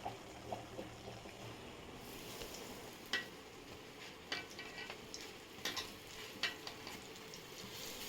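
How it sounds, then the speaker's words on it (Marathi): Surmai kingfish frying in a pan, a soft, continuous sizzle with scattered crackles and light clinks, fairly quiet and close, without talk. "आता सुरमई फ्राय करणार आहे"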